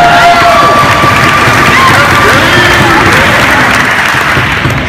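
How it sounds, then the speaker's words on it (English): Dense applause and cheering from a large crowd, steady and loud throughout, with scattered shouts rising above the clapping. "One more round of applause for my troops"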